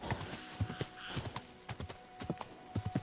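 Horse hooves clopping in Kingdom Come Deliverance, a close, uneven series of hoof strikes in quick bursts, like a horse walking then slowing.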